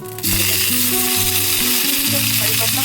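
Mustard seeds, two whole dried red chillies and chopped curry leaves fry in a pan. After a brief quiet start, a loud, steady sizzle with light crackling runs without a break, and no voices are heard.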